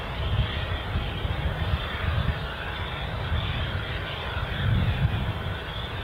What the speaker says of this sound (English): the Virgin Atlantic A350 1000 in the sunlight